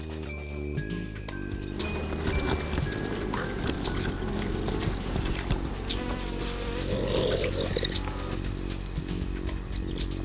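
Steady, dense bee buzzing, like an angry swarm defending its honey, fills the clip continuously at close range with a busy, droning texture.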